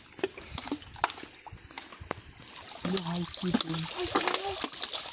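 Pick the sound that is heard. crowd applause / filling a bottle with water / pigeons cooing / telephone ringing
filling a bottle with water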